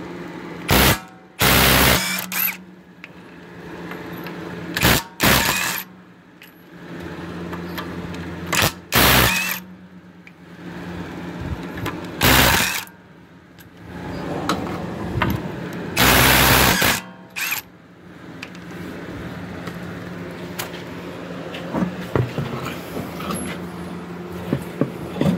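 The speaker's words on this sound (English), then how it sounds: "Now we're gonna go ahead and take off the wheels." Wheels coming off a 2006 Honda Civic Si on jack stands, with loud repeated bursts of an impact wrench rattling off lug nuts between quieter stretches of shop noise.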